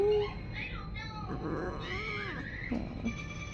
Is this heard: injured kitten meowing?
yes